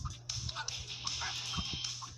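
A small white dog character named Hank in the Talking Tom Gold Run mobile game gives a series of short, light yips and whimpers over a steady game soundtrack, repeated in a quick uneven rhythm.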